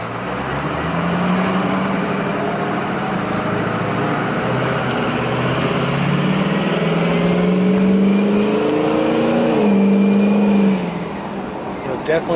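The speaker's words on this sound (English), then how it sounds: "The pipes sound absolutely amazing." Ford Power Stroke turbo diesel crew cab 4x4 dually pickup truck, exhaust droning loud and steady while driving, with the engine note rising in pitch as it accelerates near the end, while someone talks over it.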